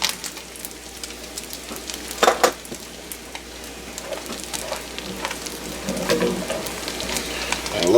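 Bacon for clam chowder sizzles steadily in a pot while it is lifted out, with a few sharp utensil clinks and scrapes over the constant crackle.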